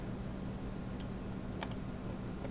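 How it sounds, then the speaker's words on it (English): Faint, sparse clicks of a computer keyboard as a password is typed, a few soft taps over a steady low hum. "Type in the password."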